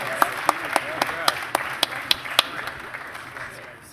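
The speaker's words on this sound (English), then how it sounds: "Another round of applause." Audience at a defense innovation event applauding, with a few loud distinct claps standing out over softer crowd clapping that fades away.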